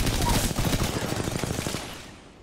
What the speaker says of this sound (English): No, that's a rampart minigun.